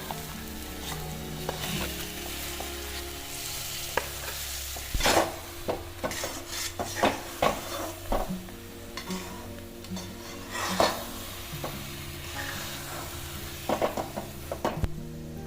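Jaggery and sugar are stirred into an olive pickle in a pan, with a soft steady sizzle under repeated scraping and clinking of a spoon against the metal, some sharp knocks, and no voices.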